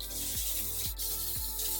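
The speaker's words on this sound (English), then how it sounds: "the L'Oreal Infallible 3-second setting mist. Give this a spray" L'Oreal Infallible 3-second setting mist sprays in a steady, bright hiss close to the mic, with a few faint soft thumps underneath.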